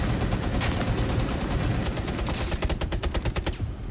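Rapid gunfire from the Rainbow Six Siege shooter game rattles as one continuous loud burst that breaks into distinct individual shots near the end, then stops.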